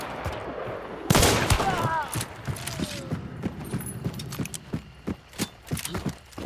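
Sniper rifle shots fire in a shooting range video game: a sharp, loud blast near the start, followed by a run of quicker, snappy reports and clicks that grow more spaced toward the end.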